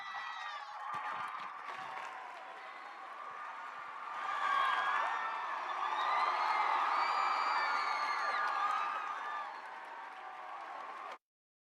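A large audience at a Bands of America summer camp opening session cheers, whoops and applauds for the color guard faculty, with sustained clapping and shouts that swell midway and continue steadily before cutting off abruptly.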